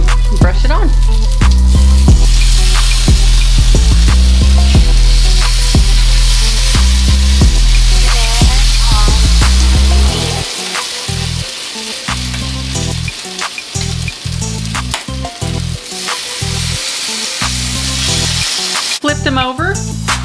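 Chicken wings sizzle loudly and steadily in a pan as chipotle sauce is brushed on with a basting brush, a dense continuous frying hiss with occasional scrapes and no voices.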